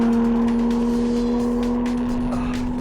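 A Porsche Cayman S with a 3.4-litre six-cylinder engine in sports mode, holding a steady, droning engine tone at constant revs, close and continuous with no talking.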